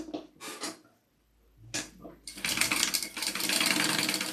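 Sewing machine basting around the edges of a quilted shoulder bag, a couple of short stitching bursts followed by a sustained fast run, close up, with brief handling noises between.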